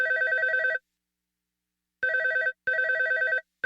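A telephone bell rings in repeated bursts, one ring, a long pause, then two more rings close together, clear and fairly near in a quiet room.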